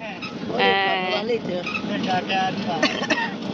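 A goat bought for Qurbani bleats several times in quavering, harmonic cries, close by, with people talking and a cough mixed in.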